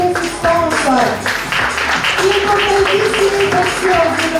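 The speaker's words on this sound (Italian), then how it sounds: "Facciamo un applauso a tutti questi sponsor" Audience at the Miss Aurora 2024 pageant selection at Villa Martin in Dolo, Venice, clapping for the sponsors, a loud, steady crowd applause mixed with voices and someone speaking.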